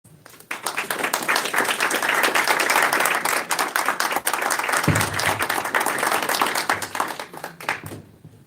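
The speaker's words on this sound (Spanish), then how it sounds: "Pedimos al público presente brindar un afectuoso aplauso a los panelistas." Audience at a humanities week event applauding a panel, a full, continuous round of many hands clapping that swells quickly, holds for several seconds with a brief thump partway, then tapers off.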